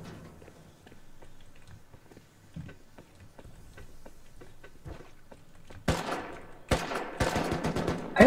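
Video game gunfire, starting with faint distant ticking shots and building into loud close bursts of rapid fire in the final seconds.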